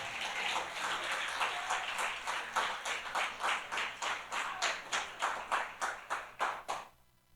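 A church congregation at an evening service claps together in a steady rhythm, starting as loose applause and settling into regular unified beats about three a second before breaking off abruptly.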